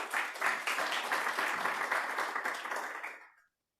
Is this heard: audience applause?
yes